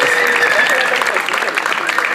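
Audience applause for the bassist at a rock concert, a steady wash of clapping with a voice or stage sound faintly running beneath it.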